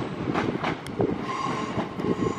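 Train rolling into the platform at Crewe station, with steady clickety-clack of wheels over rail joints, a faint high squeal and a continuous rumbling hum, all close by.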